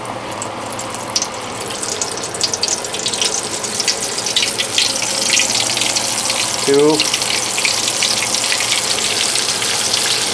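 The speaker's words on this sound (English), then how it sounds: "then we're going to start deep frying" Breaded white bass fillets in a dry water-and-flour breading hiss and crackle as they deep fry in hot grease. The steady sizzle builds slightly, and a voice speaks briefly over it.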